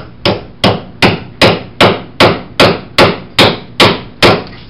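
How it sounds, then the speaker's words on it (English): Hammer blows driving nails into supports for jacked-up ceiling joists, eleven sharp, evenly spaced strikes roughly every half second, loud and close with no talking. "you're not nailing them all the way in"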